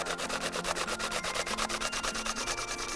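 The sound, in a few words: grating courgette (zucchini) on a grater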